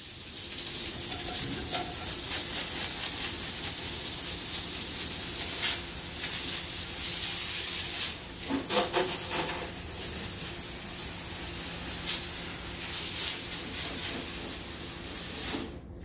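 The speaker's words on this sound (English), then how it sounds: "I'm going to start on the top of the walls and rinse down." A garden hose sprays water to rinse soap and residue down the walls of a dog run, a steady hiss that runs throughout, with brief shifts in pressure as the stream moves across surfaces.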